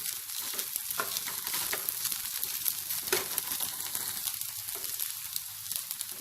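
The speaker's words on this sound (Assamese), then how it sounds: "এইখিনি মই এনেকৈ ভাজি আছোঁ" Leftover rice stir-fried with vegetables, garam masala and spices sizzles steadily in a hot pan, a close, continuous frying hiss broken by soft scrapes and knocks of stirring, with no talk.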